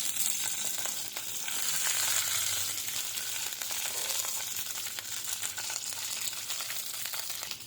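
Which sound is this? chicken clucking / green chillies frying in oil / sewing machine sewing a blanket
green chillies frying in oil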